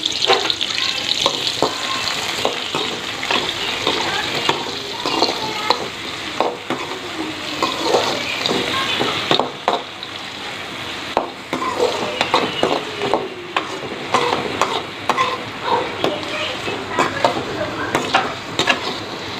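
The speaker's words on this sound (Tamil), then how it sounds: "லைட்டாக வதங்கினதும் மஷ்ரூம் போட்டுடலாம்" Mushrooms sautéing in a pan for a pepper curry, with a loud, continuous sizzle and busy stirring scrapes and clatter close up, with no talk.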